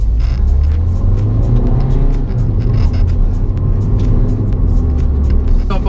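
A car driving along a road, heard from inside as a steady, loud engine rumble and road noise that continues throughout with slight revving, on a trip toward a small village near Voghera.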